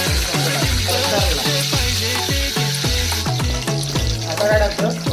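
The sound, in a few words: garlic and curry leaves frying in hot oil for fish curry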